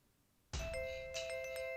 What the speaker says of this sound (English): The doorbell doesn't stop.